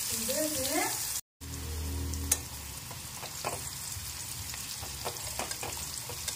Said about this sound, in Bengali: তাড়াতাড়ি ভাজা হয়ে যাবে